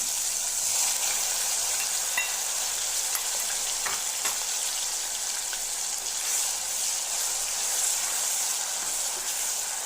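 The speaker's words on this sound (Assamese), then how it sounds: "পেষ্টখিনি ৰঙা হোৱালৈকে ভাজি ল'ম" Ginger, garlic and onion paste frying in a kadai, a continuous bright hiss of oil with occasional soft scrapes and clicks of stirring, and no voices.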